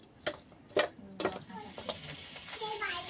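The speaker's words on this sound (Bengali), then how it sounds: "মাছটা কড়াইতে দিলাম ভাজতে" Fish fries in a kadai with a soft sizzle, broken by a few sharp metallic clanks and scrapes of stirring early on, then a steadier bubbling fry.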